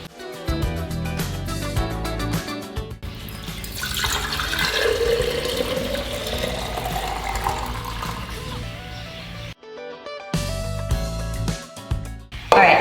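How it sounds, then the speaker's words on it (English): Freshly made juice from a Nama juicer strained and poured, a steady liquid stream and splashing running for several seconds, close and moderately loud, broken by a brief pause and a final clatter. "I'm first going to strain the juice from the Nama and pour it"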